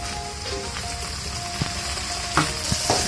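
Bitter gourd slices fry in a pan with onion and slit green chillies for a potato and bitter gourd fry, giving a steady close sizzle with scattered small pops and utensil taps.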